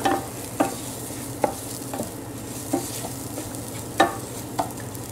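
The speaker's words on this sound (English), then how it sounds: "Put that in, and we just want to kind of get a little bit of oil on it, sear it up." Uncooked rice searing in a thin coat of hot oil for paella, a steady close sizzle broken by scraping stir strokes roughly every second.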